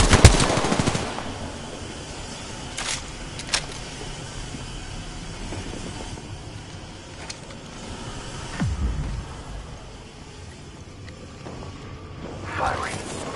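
Rapid automatic gunfire in the Apex Legends video game, loud bursts under a spoken voice, with a few sharp shots standing out early and again midway.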